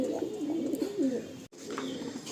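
Several pigeons coo steadily and close by in a loft of top-quality breeding pigeons, with low rolling calls overlapping and one brief break in the sound midway.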